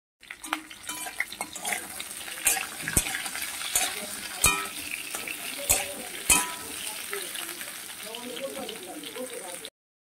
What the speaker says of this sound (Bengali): এবার কাঁচকলা দিয়ে আলুর সঙ্গে কাঁচকলাগুলোকে খুব ভালো করে ভেজে নেব